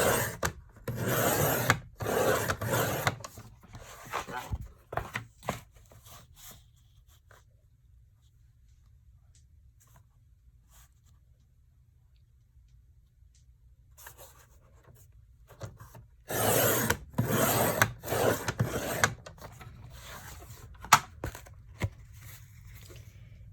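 Book cover board for a mini album being cut by hand: bursts of close scraping, rubbing and scoring strokes, then a long quiet pause before another cluster of rasping cuts and a sharp tap.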